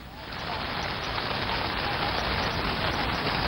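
Heavy rain pours down at Marina Beach in Chennai, a dense, continuous hiss of drops hitting surfaces that swells in the first half second and then holds loud and steady.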